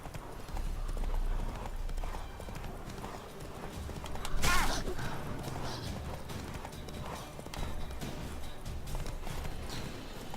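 Horse hooves clip-clop steadily in The Witcher 3, a continuous galloping patter amid game ambience with a brief louder burst near the middle.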